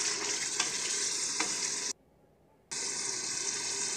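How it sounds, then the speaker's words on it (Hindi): Chicken and spinach frying in a pan for saag gosht, a steady broadband sizzle with a few stirring clicks, loud and close, cutting out briefly near the end before resuming. "अब हम इसको भून रहे हैं।"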